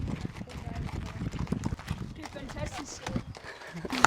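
Horse hooves clip-clop in a quick, uneven rhythm as the animal is ridden outdoors, close and clear, with someone talking over the footfalls throughout.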